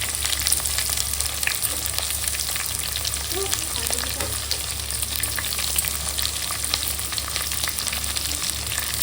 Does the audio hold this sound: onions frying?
yes